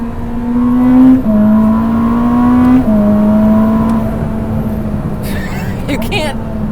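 A Ferrari SF90 Stradale, the 986 hp all-wheel-drive hybrid, roars steadily from inside the car as it drives, its drone climbing and stepping in pitch through shifts while someone talks over it.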